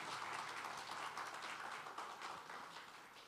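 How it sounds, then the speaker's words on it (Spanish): A church congregation applauds to welcome a speaker, with steady, even clapping that sounds distant and soft and carries on without a break. "Démosle por favor un aplauso para recibirla."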